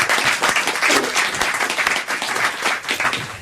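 A studio audience bursts into dense, sustained applause, many hands clapping loudly and evenly for a few seconds before easing slightly at the end.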